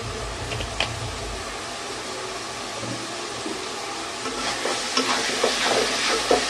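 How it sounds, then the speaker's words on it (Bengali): Spices with salt and turmeric fry in oil for a duck curry, a steady close sizzle broken by occasional spoon scrapes and taps that grow busier toward the end, with no talking. "একটু নেড়ে নিচ্ছি, কারণ মশলাটা না হলে ধরে যাবে"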